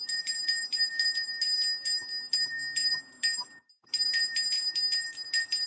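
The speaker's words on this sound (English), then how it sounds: "On the bell I got. Coffee bell." A small coffee bell rings over and over in rapid, bright bursts, pausing briefly in the middle before the quick ringing resumes, close and clear against a quiet room.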